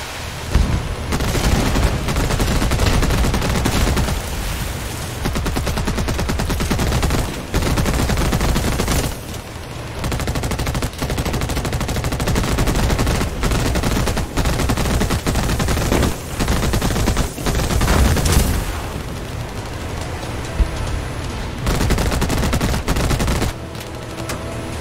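Dense, continuous gunfire and cannon bursts in the naval combat game Age of Water, rapid shots overlapping with occasional heavier booms, loud and sustained with no talk.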